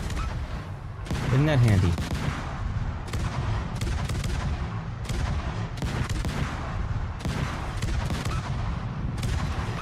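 A battleship's automatic secondary guns in World of Warships fire at destroyers, a steady series of booming shots with rumbling low thunder throughout, while someone talks briefly over it.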